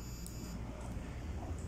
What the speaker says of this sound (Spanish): Cuando le aprieto el botón B, me da una alarma de que ya no tiene más intensidad